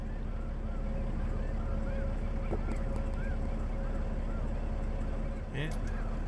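A large flock of mixed birds in western Arizona calls at a distance, with scattered goose-like honks rising over a constant low rumble and wind.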